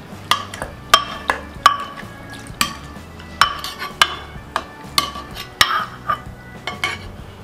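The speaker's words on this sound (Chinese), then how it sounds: "我们稍微拿勺子给它压一下" A spoon presses chili peppers, garlic and ginger slices down into cooled soy sauce brine, giving a string of sharp, separate clinks and knocks against the container, each with a short ring, over quiet wet background.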